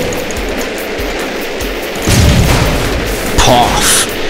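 In the Goat Simulator video game, gas cylinders explode with two loud, booming bursts over a continuous background rush, and a voice talks faintly through it.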